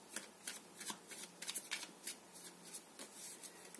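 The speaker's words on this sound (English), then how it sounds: "Let's get one more card." Tarot cards being shuffled and handled during a reading, heard as soft, close riffling and papery flicks in irregular bursts, faint and without talk.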